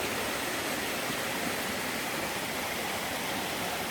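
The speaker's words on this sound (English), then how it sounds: "And these are the falls." A steady, dense roar of rushing water from Connor Creek Falls on the Appalachian Trail, loud and unbroken throughout with no other sounds.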